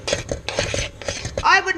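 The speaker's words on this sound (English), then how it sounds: "So I'm going to mix this around and let it all melt together." A utensil scrapes and clinks around a pot while coconut oil is mixed as it melts, several quick metallic strokes in an uneven rhythm, close and fairly loud.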